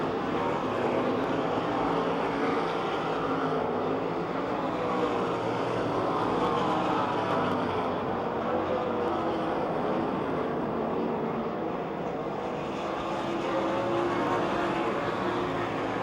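Race cars lap an oval dirt speedway in Pennsylvania, a steady, dense engine roar at mid-distance that holds unbroken throughout with only slight swells.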